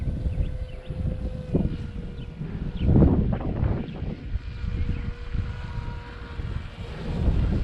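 A Strix StratoSurfer RC plane on a 3-cell battery flies fast in gusty wind, its motor whine rising and fading as it passes, with wind buffeting the microphone.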